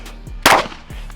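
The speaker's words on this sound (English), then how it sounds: "I'm not even gonna put the mag in, I'm gonna just shoot this thing." A single pistol shot with only a chambered round and no magazine, tested with an Osight XR red dot, cracks once as a loud, sharp blast and decays quickly, with no talk over it.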